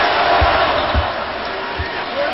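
Basketball arena crowd at a Cleveland Cavaliers versus Washington Wizards playoff game jeering an opposing free throw shooter, a broad sustained crowd roar with a few low thuds, under a commentator's voice.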